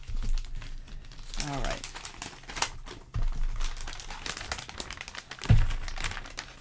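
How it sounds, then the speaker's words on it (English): Plastic packaging crinkles in bursts while someone shows simple stitch markers used for knitting and crocheting, the rustling close and irregular with a brief spoken word mixed in. "Sorry about the crinkling? Not sorry about the crinkling."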